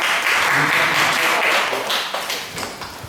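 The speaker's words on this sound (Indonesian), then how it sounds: "Tepuk tangan" Applause from an audience at an anti-corruption campaign event held at a public works office in Barito Kuala, loud and steady at first, then thinning out toward the end.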